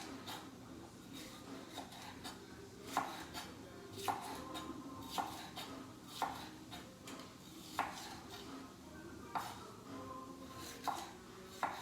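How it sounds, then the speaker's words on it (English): A knife slices vegetables for shrimp fajitas on a cutting board in a home kitchen, giving quiet, regular cuts about every half second to second, with faint clinks between them and no talking. "just slice these up because these are going to be for the fajitas"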